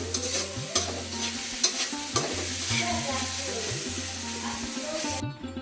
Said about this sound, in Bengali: এই যে স্পেশাল মাটন কারি, মশলা কষানো হচ্ছে এখানে।